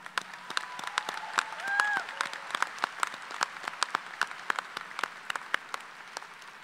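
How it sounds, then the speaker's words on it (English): An audience at a university fall commencement ceremony gives a round of applause, scattered sharp claps rising and falling over several seconds in a large hall, with a brief tonal sound in the middle. "Let's give her one more big round of applause."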